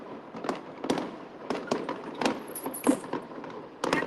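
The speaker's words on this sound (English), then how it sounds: "Darling Harbour fireworks, the final rehearsal." Fireworks over Darling Harbour in Sydney during a final rehearsal, with a rapid series of sharp bangs and crackling bursts at a steady, irregular pace, loud and fairly close, with no talk.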